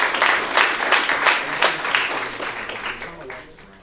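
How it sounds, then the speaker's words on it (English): Crowd applauding gentlemen on stage at an Oklahoma boxing and combat sports celebration event, clapping strongest at first and gradually thinning and fading, with some speech mixed in. "one round of applause for these gentlemen right up on the stage"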